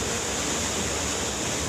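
Roaring flood water and surging waves in Himachal pour out a loud, steady broadband rush, like a waterfall, filling the whole moment without pause or speech.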